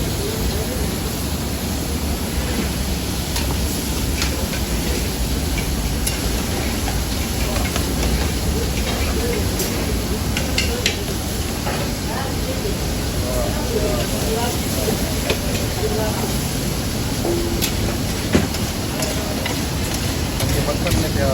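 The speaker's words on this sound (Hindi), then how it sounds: "ये मक्खन में कढ़ाई तैयार हो रही है।" Mutton karahi cooking in butter in a wok, a steady close sizzle and frying hiss with occasional stirring scrapes, continuous throughout at an even level.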